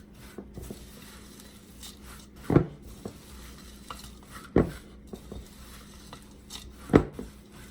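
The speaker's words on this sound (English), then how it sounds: "And we're going to stir that really, really well." Stirring a food mixture in a pot yields soft scraping and shuffling sounds with a faint simmering hiss, punctuated by three sharper knocks of the spoon against the pot.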